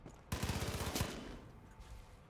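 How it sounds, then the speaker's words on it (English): Rapid gunfire bursts from the video game Far Cry 5 in arcade mode, a quick run of sharp, close shots followed by fainter scattered reports as the fire tapers off. "I don't see how to get over there without getting attacked by gunfire."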